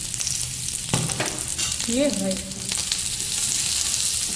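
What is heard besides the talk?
cumin sizzling on a hot griddle for paneer paratha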